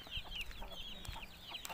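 Five-month-old Rich Vatam fighting-breed rooster chicks from Bhimavaram cluck nearby in a quick repeated series of short, rising calls over low background noise.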